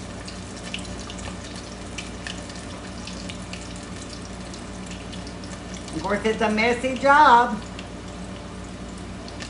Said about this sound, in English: thank goodness we all have a little water. We can wash our hands.